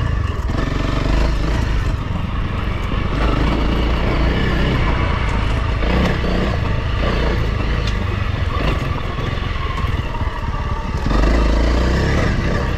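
2022 Honda CRF300L dual sport motorcycle ridden on single track, its engine a loud continuous drone that rises and falls with throttle changes, mixed with clattering and rough trail noise throughout.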